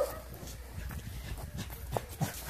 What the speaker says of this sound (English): My neighbor is walking her dog by.